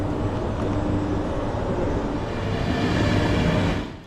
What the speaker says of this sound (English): As our train departs northbound to Coimbra